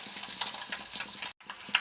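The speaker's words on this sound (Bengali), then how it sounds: "ডিমগুলি খুব সুন্দর ভাজা হয়ে যাচ্ছে" Eggs fry in oil in a pan with a soft, continuous sizzle and crackle at low volume, briefly cutting out before the hiss resumes.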